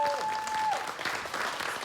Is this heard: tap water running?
no